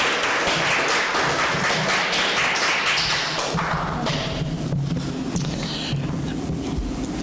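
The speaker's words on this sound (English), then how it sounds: "Why don't we give her a big round of applause?" An audience at an open-mic storytelling evening in a coffeehouse applauds with dense, continuous clapping that stays loud and steady throughout, with no talking over it.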